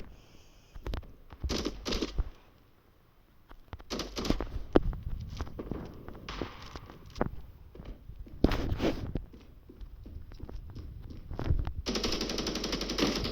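M4 rifle gunfire in a video game, loud, close bursts of rapid shots separated by short pauses and footsteps, ending in a sustained stretch of louder action.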